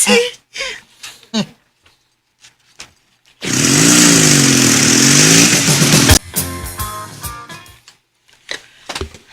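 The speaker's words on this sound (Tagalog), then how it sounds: "Nilarga na ang motor ni Norman nga sakay si Minda" A motorcycle starts off and rides away, its engine rising into a loud, wavering rev that holds for a few seconds and then cuts, with people talking before and after it.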